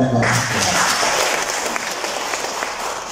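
An audience at a feast of Saint Joseph mass in Sacred Heart Church, Bahrain, claps together: a steady, dense burst of applause that fills the room and slowly fades.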